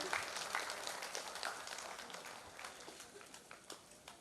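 Quiet audience applause at a ceremony honoring a dentist and associate professor, scattered handclaps that start fuller and gradually thin out and fade, sounding somewhat distant.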